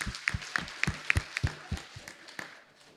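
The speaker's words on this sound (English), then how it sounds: "please give a big applause to both presenters of today's seminar" Seminar audience members clap for two presenters at an academic conference, a sparse, slightly distant patter of separate claps that thins out toward the end.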